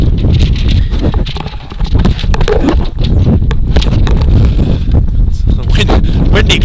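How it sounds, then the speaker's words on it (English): Wind buffets the microphone at an outdoor high school baseball game, Freeport vs. Burrell, a loud, steady rumble with gusty bursts that runs under a commentator's ongoing play-by-play talk. "Windy conditions here causing us to lose some of our paperwork"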